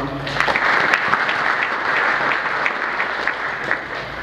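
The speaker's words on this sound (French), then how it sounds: "Vous méritez nos applaudissements." A church congregation at a Pentecost Mass in Goma breaks into sustained applause, a dense, even clatter of many hands that continues steadily for several seconds.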